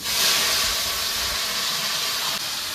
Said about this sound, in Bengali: এবার কচু আলুটা এই তেলের মধ্যে ঢেলে দেবো